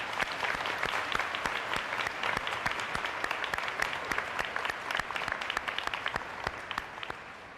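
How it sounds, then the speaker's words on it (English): An audience at an elementary school opening ceremony applauds police officers, with sustained, dense clapping from a crowd that fades slightly toward the end. "If we'll give them a round of applause."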